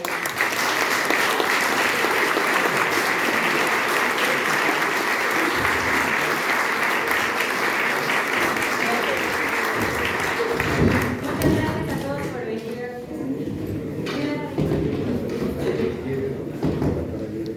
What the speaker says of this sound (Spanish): un fuerte aplauso otra vez para ellos